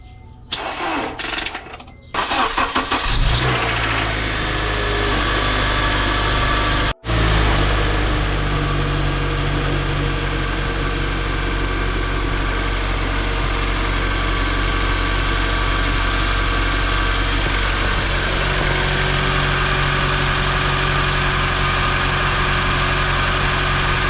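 Acura TSX with a stock exhaust and a small test pipe cranks over after a few short bursts, catches, and settles into a steady, loud, close idle that runs on alone with no talk.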